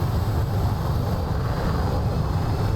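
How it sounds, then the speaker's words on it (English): Steady drone of aircraft engines in the DCS flight simulator game, a continuous broadband rumble held at an even level throughout with no talk over it. "Come on, I can hear the engines."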